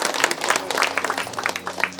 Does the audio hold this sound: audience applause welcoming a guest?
yes